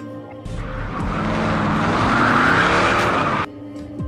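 A car speeds off with a sharp, loud tire squeal and roaring engine in a tense action scene, the skid rising and holding for about three seconds before cutting off abruptly.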